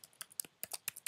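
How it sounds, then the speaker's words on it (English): Someone typing a password on a computer keyboard: a quick, uneven run of crisp key clicks and taps, close and clear, with short gaps between strokes and no voices. "the password I'm typing in is too long"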